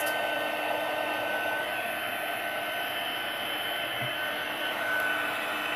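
An embossing heat tool warming a stamped card from underneath, giving a steady, loud blowing hiss that holds at an even level throughout with no pauses.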